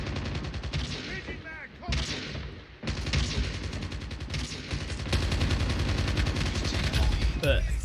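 Loud, rapid gunfire from the mobile shooter game Call of Duty Mobile, sustained bursts and sniper-style shots crackling almost continuously with brief pauses, under occasional game sounds.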